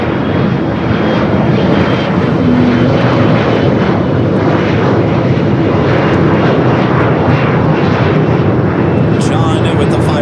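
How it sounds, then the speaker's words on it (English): A converted Boeing 747-400 freighter takes off at LAX, giving a loud, steady, close jet roar throughout. Talk runs over the engines. "747-400 freighter"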